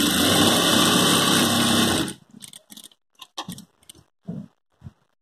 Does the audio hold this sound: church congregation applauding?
no